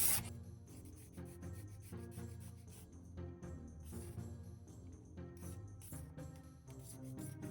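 A triangular file rasps back and forth along a seam line on a 3D printed prop in quick, rhythmic strokes, close up but faint, with brief pauses between passes.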